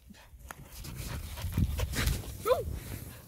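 Gamlet, a pampered dog nicknamed Gummy out on a walk, snorts and lets out a short rising whimper near the end, close by, while people talk in Russian around him.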